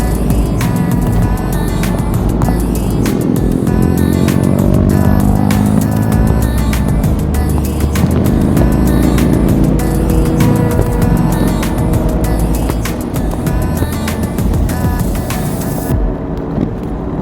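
Motorcycles on a large group ride-out streaming past close by, engines revving and droning in overlapping waves, loud and continuous with rising and falling pitch as bike after bike goes by.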